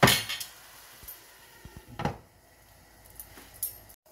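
A lid set over a pan of cheesy potato taquito filling, with a sharp metallic clack at the start, then lighter knocks and rattles, close by and without talk.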